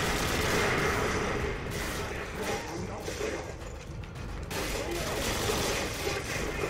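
Gunfire in the Call of Duty Modern Warfare 2 video game rattles in dense, mechanical bursts amid a cluttered wash of battle noise, with rapid weapon clatter continuing loudly throughout.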